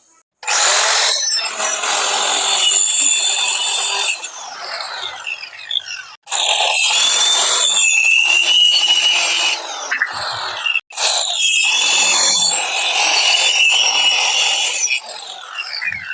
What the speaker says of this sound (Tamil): இது எக்ஸ்ட்ரா இருக்கிற பீஸ்லாம் நம்ம கட் பண்ணிடலாம்